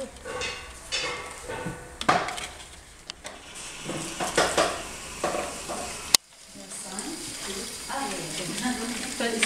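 Food being stirred in a sizzling pan while cooking, with scraping and clinking of a utensil against the pan over a soft frying hiss, people talking nearby and a sharp knock midway.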